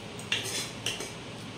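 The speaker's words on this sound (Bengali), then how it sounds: "ভাতটা বেড়ে নিই" Rice is served onto a plate with metal utensils: two light clinks of a spoon against the dish in a short, quiet moment, with no talking.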